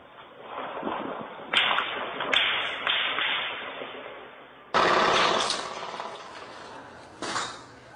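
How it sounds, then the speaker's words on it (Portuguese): A few sharp gunshot cracks from traffickers exchanging fire in Complexo da Maré, Rio de Janeiro, ring out in sequence, close and loud, each with a short echoing tail over a dull background hum. "Traficantes se enfrentam a tiros no Complexo da Maré"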